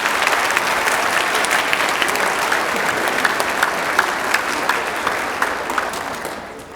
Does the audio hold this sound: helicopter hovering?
no